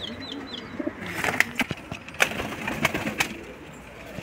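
Low soft cooing of pigeons close by, including a golden cross-bred bird, with a few sharp clicks and brief wing flutters scattered over a light background hum.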